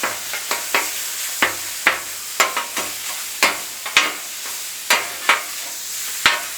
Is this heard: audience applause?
no